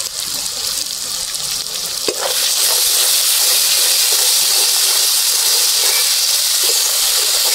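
Chicken curry masala fries in a pan, first as a quieter sizzle, then bursting into a loud, dense hiss and steam after a sharp knock partway through, with stirring and no speech.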